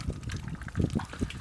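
A goose gosling with a crooked beak drinks water outdoors in freezing weather, producing soft, quick slurping and splashing sips, close and faint.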